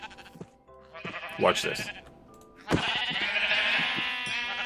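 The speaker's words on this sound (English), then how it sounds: "So here's our compressed sheep." Compressed sheep in Minecraft bleating in loud bursts, a couple of calls followed by a sustained, dense chorus of overlapping bleats, with someone briefly speaking before it.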